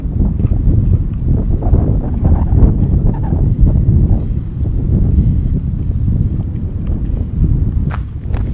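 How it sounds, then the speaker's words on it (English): Wind gusting steadily across a microphone on a desert wadi hike, a loud continuous low rumble and buffet with brief shifting swells and no voices. "the wind's picking up."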